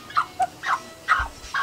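A chicken held in someone's hands gives a few short, sharp squawks and clucks in separate bursts, fairly close, with brief quiet gaps between them.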